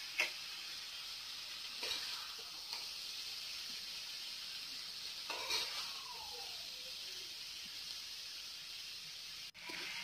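Pigeon peas and field beans being stirred in a frying pan, a soft, quiet sizzle with occasional scraping and tapping of the spoon against the pan.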